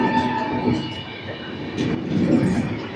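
A passenger train hauled by a VAP4 electric locomotive rolls past nearby, a loud steady rumble with rhythmic wheel clatter and a brief metallic squeal, without talking.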